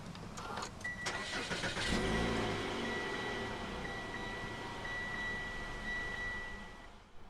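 A 2017 Mitsubishi Outlander with the 2.4-litre engine and 4WD starts by push button: a short cranking burst, then the engine catches and settles into a steady, fairly quiet idle with a faint whine over it.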